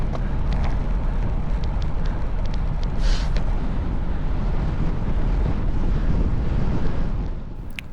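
Loud, constant headwind buffeting a microphone during a road cycling race in Vieux-Condé, a dense low roar with a few faint clicks, easing off at the end.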